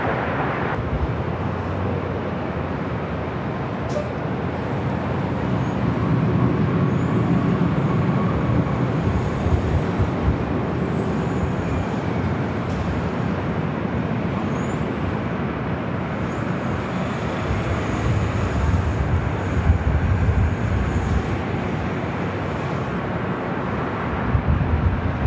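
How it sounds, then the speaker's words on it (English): A Southwest airliner taking off at LAX fills the air with a steady, broad jet roar that holds at an even level throughout, heard from a distance with no voices. "we got the Southwest flight that's going to be taking off"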